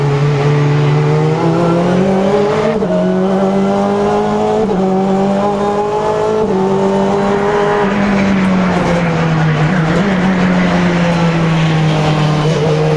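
2015 Honda Civic Type R BTCC race car lapping Silverstone, its engine loud and close with a strong droning tone that rises and falls through gear changes, heard alone with no talk.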